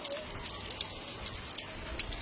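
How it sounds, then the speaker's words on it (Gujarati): Rain falls outdoors in a steady, fairly faint patter, a continuous soft hiss of drops with a few slightly louder taps. "ઘણા વિસ્તારોમાં પણ વરસાદ પડી રહ્યો છે"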